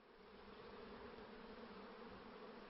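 Swarming honeybees at a beekeeping site give a steady, dense buzz that fills the whole stretch, close and continuous with no talking.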